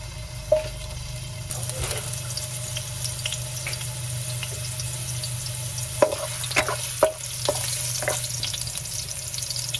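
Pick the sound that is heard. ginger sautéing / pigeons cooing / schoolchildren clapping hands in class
ginger sautéing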